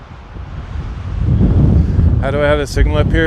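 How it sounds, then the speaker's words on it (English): Gusty wind buffeting a handheld camera microphone outdoors, a low roaring rumble that swells louder, with someone speaking briefly over it at the end. "it's too windy"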